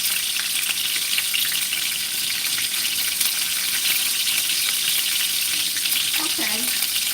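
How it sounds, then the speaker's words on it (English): Steaks sizzle and fry steadily in a hot pan, a dense, continuous hiss that stays close and even throughout with no talking. "Oh, the steaks sound good."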